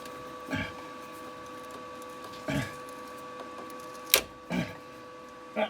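A seized nut on a 2008 Ford Transit timing chain job cracks loose under a wrench: a few sharp metallic snaps and clicks spaced over several seconds, close and fairly loud over a steady low hum.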